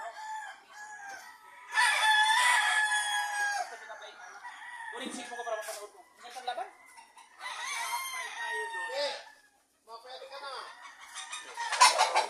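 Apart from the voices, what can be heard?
rooster crowing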